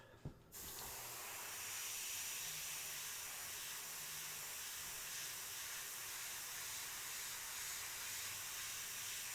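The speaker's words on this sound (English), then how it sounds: "this is the airbrush gun that we had a little bit of problems with because it was spattering, shooting out" A 0.25mm airbrush from a Meeden set sprays in one continuous, even hiss lasting several seconds after a brief click at the start, heard close and fairly quiet with no talk.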